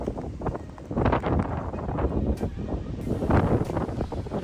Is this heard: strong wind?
yes